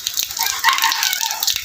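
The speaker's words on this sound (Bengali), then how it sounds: "মুরগির ডাক আপনারা শুনতে পাচ্ছেন।" A domestic hen calls and clucks nearby in the rain, its short voiced notes rising over a steady wash of falling water.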